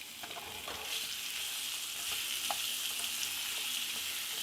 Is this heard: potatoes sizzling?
yes